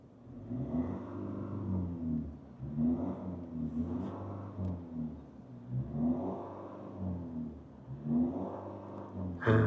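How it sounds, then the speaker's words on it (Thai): A parked car's engine revs in repeated swells as the accelerator is pressed, with a throaty mid-range rumble rising and falling in about four surges, fairly close and steady, no voices. "อันนี้รถจอดนะฮะ เราจะวัดเครื่องกับหน้าจอแบบเรียลไทม์นะครับเราเหยียบคันเร่ง ดูตามรอบ"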